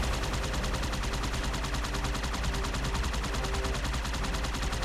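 Rapid, continuous gunfire from Halo 2 Anniversary fills the whole stretch, dense bursts of shots fired without a break at a steady, loud level.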